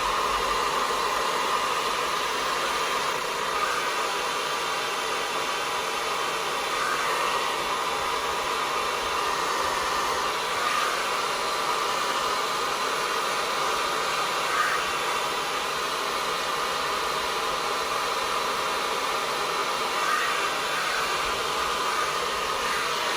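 A hair dryer blows steadily while drying curly hair, a continuous loud whooshing hum with slight shifts in tone as it moves, alone with no talking.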